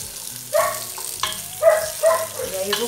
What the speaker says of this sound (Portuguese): dá uma refogada no bacon, para ajudar a derreter mais um pouco